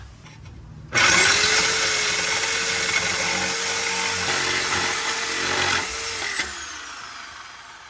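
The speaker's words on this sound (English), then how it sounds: "Sawzall does it all." A Sawzall reciprocating saw cuts through the mild steel exhaust pipe under a 1992 Acura Integra GS-R in a garage. After a quiet start, a loud, steady, high whine runs for about five seconds with a slight rising pitch before it cuts off.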